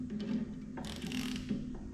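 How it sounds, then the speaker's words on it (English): A ratchet wrench worked on farm equipment gives a short burst of metallic clicking and grinding over a low steady hum, close by, with no talking. "I think I got a ratchet"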